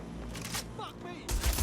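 Gunfire in Watch Dogs: Legion, a burst of broadband shots early on and a louder, heavier volley near the end, with game sounds and speech-like tones between.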